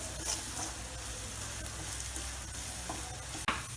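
Ginger sautéing in oil in a pan for fish pickle, a steady close sizzle with faint stirring and a sharp clink near the end.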